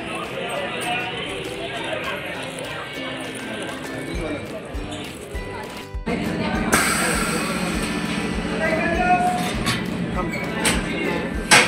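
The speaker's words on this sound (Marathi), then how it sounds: "अशा प्रकारे ही ट्रेन खाली जाते." A monorail train moves along its track near the ropeway station at the Saptashrungi hill shrine in Vani, giving a steady rumbling run that grows louder and rougher partway through, with people talking over it.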